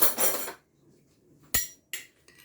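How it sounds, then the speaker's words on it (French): Metal spoon picked up in a home kitchen during Ramadan meal prep, a brief clatter of cutlery at the start, then quiet with a few sharp clinks later. "je récupère une cuillère"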